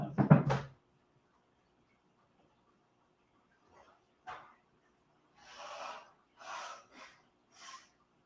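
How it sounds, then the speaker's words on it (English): A short, loud nose blow, then after a pause a few softer snorts and sniffs. No talking. "I had to blow my nose."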